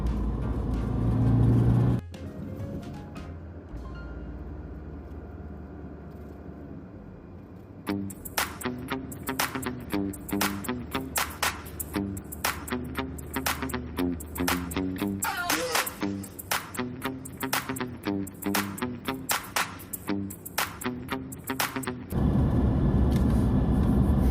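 A car driving through city traffic on a street in Badiah, with a steady engine and road rumble throughout and a dense run of rapid clicking or ticking over the middle stretch.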